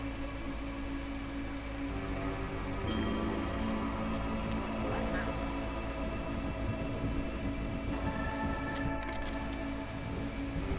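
Charged rain falls in the video game Against the Storm as a steady, dense wash of rainfall noise that lasts throughout, with faint game tones underneath.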